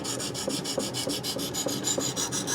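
A knife drawn in rapid, rhythmic passes across a ViperSharp diamond sharpener, about five scraping strokes per second, dry and gritty, close and steady, with no talking.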